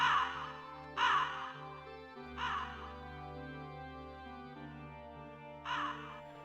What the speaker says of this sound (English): Crows. Do they fly off? Nope. These ones stay there.